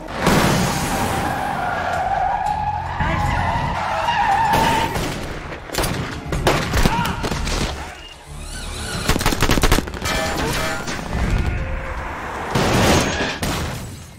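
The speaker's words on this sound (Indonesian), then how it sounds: "Di tempat lain, mobil anak buah Phantom berhasil dihentikan lalu digerebek." A car skids hard to a stop during a film raid scene, tyres screeching over a roaring engine, followed by bursts of gunfire and crashing impacts in loud, dense layers throughout.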